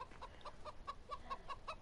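Chickens in the farming game Farming Simulator 2015 give a quiet, steady run of short, evenly spaced clucks over a faint background hiss, with no voices over them.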